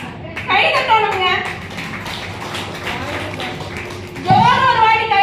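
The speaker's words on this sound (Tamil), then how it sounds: "கை தட்டணுங்க." An audience at a Tamil stage event claps for several seconds, a steady mass of applause between a host's spoken lines at the start and end.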